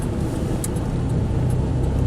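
A 1993 Chevy S10 pickup with a 2.8L engine cruising around town, heard from inside as a steady, loud low engine drone mixed with road noise, with no talking.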